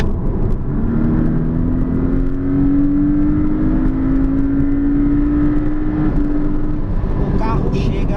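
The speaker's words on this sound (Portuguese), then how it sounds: "estamos agora aqui a 100 km por hora, eu vou acelerar tudo" Car accelerating at full throttle from 100 km/h toward 160 km/h, a steady loud engine drone with a slowly rising pitch over road and wind noise, continuous throughout.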